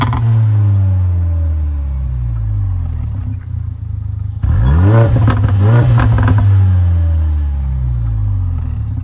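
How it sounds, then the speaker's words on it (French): A Mercedes GLA 45 AMG in sport mode revs hard, and its exhaust pops and crackles in a close, loud burst after a steady rumbling idle. "ça fait pas mal de pétarades quand même, des retours à l'échappement"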